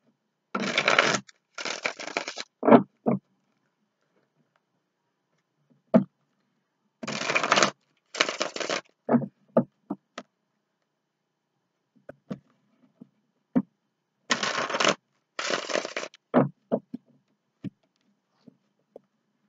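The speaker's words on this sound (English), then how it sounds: "the deck just kind of fell out of my hands" A tarot card deck slipping from the hands and spilling, heard as three separate bursts of papery riffling and slapping, each trailing off into scattered taps as cards land, fairly close with quiet gaps between.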